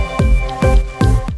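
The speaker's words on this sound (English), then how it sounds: "We go ahead and add the rest of that marinade." Marinade splashes and drips into a pan of cabbage and frozen broccoli in three close, wet, squishy pours, near and fairly loud with no talking.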